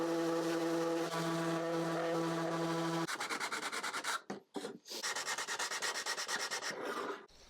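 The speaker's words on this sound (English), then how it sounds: "so I just used my sander." A power sander works over an oak sewing box, a loud continuous whirring rasp that shifts to a pulsing, rubbing rhythm with two brief pauses as it lifts off the wood.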